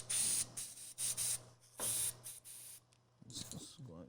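Several short hissing bursts from a spray can onto a MacBook Pro 13-inch A1502 laptop keyboard during keyboard replacement, close by, with pauses between them, followed by brief handling noises at the end.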